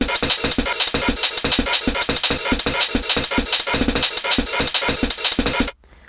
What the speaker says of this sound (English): a performance with different hi-hats.